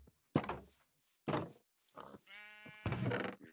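Sheep bleating in Minecraft, a single clear wavering bleat between short thudding sounds, heard alone at low level.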